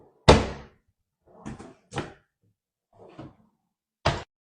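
Soft-close kitchen cabinet doors and drawers on custom grey MDF cabinetry with recessed pulls, giving several muted thuds and soft knocks spaced over a few seconds, the first one loudest, heard alone in a quiet room.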